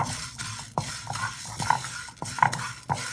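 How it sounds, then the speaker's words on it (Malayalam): Coriander seeds dry-roast in a hot pan for Madras curry powder. Rhythmic scraping stirs repeat every half second or so, with light rattling of seeds and a faint sizzle underneath and no voices. "ചൂടായ ഒരു പാനിലോട്ട് മല്ലി, പച്ചമല്ലി ആഡ് ചെയ്തിട്ടുണ്ട്"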